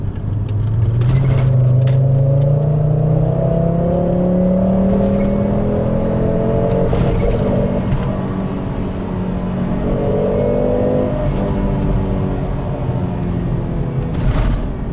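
A Volvo 850 GLT with a five-cylinder engine driving, a steady mid-pitched engine drone rising through the gears with a deep, continuous hum and some road and wind noise throughout.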